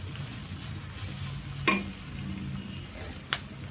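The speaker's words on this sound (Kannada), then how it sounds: "ಸೊ ಪ್ರತಿಯೊಂದು ಮಸಾಲೆ ಹಾಕಿದ್ಮೇಲೆ ಆಲ್ಮೋಸ್ಟ್ ಈ ಥರ ಮಿಕ್ಸ್ ಮಾಡಬೇಕು" Spices are stirred into fried rice in a hot pan, a soft continuous sizzle with two sharp scraping strokes of a spoon against the pan.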